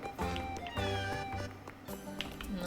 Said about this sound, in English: Except for a cute little cat.